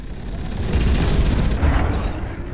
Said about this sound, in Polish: cały czas słychać karabiny w tle